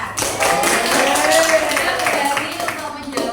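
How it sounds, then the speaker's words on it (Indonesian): Schoolchildren in an Indonesian sixth-grade classroom clap their hands together, a loose, busy patter of claps mixed with voices and room noise. "Tepuk tangan"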